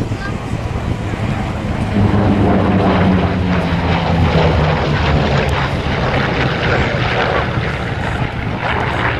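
Vintage aircraft, among them high-horsepower types, race past at high speed at the Flying Legends airshow at Duxford, a loud steady engine roar sweeping by with a falling drone, while a commentator talks over it.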